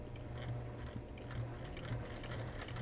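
A sewing machine runs a straight stitch on a pot holder, a quiet, steady mechanical hum with faint rhythmic ticking from the needle, heard alone and not very close.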